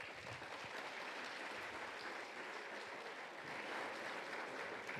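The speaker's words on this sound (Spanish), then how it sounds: "Un aplauso para el Señor." A church congregation at a Bible seminar gives a continuous round of applause, heard as a soft, steady, distant hiss of many hands clapping without speech.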